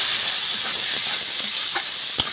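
Spiced grated potato fries in a pan, giving a steady, loud sizzling hiss with a few small pops and one brief clank near the end.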